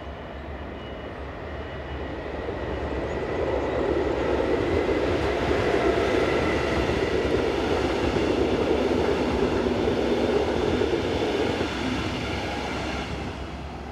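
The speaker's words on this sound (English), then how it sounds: "This is effectively a German train, with the locomotive and the passenger stock all manufactured in Germany" A German-built passenger train, locomotive number 4008, on the service from Troisvierges rumbles past with a swelling, sustained roar that peaks mid-pass and slowly fades, with no voices.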